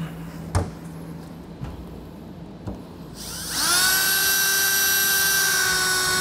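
A power drill fitted with a pilot bit bores holes in the steel bed of a 2022 Ram pickup. A few sharp clicks come first, then the motor spins up into a loud, steady, high whine close by.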